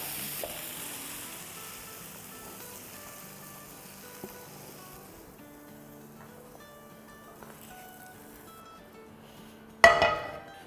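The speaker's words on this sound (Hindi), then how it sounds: "ऑयल जो भी है वो सिजल कर रहा है" Minced keema fries in hot oil in a pan with a soft continuous sizzle, close and fairly quiet, with a few light utensil clinks and a sharp clatter near the end, no speech.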